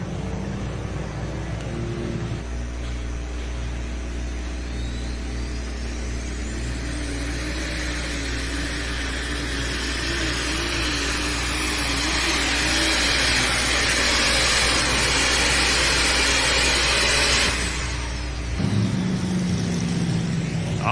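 A fully loaded John Deere pulling tractor from Delroy, Ohio at the National Tractor Pulling Championships roars loudly and steadily throughout. The engine strains and revs hard near the mic, then cuts off abruptly near the end.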